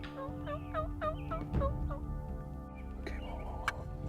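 Wild turkeys gobble near a decoy setup during a Land O'Lakes turkey hunt, a few close rattling gobbles in quick bursts over soft background calls, fairly faint overall.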